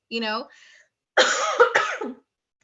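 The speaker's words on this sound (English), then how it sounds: "I'm so sorry, I'm coughing." A person coughs harshly a few times in short bursts, close up, after a brief vocal sound at the start.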